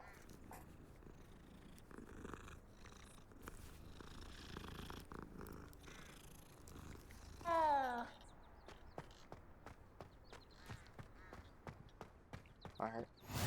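A cat in a magic-themed video game purrs steadily while being petted, a soft close rumble under occasional footsteps and a brief louder chirp midway. A voice talks quietly at times.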